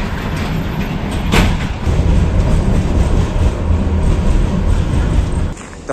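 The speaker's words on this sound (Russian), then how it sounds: "Трамвай КТМ-23." A KTM-23 tram, an aging streetcar, rolls past with a steady loud rumble and rail noise, a sharp clank near the start, and the level dropping toward the end.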